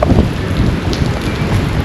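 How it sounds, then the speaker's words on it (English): Steady rain pours down in Sukuta, The Gambia, during the rainy season, a dense, loud, continuous wash of drops close by with no voices. "it was raining here since last night, and then still now it is raining"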